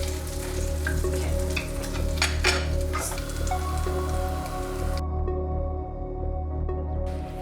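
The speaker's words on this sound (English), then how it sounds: "Once everything is melted and it starts to bubble like that" Melted fat bubbling and sizzling in a pan while cooking schnitzel, a steady crackling fry with a brief scrape or stir partway through, close and continuous, with no talking.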